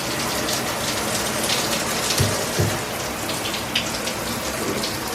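Newly installed shower running steadily, a broad continuous hiss of water spray with a couple of brief splashy thumps, close and fairly loud, no talking.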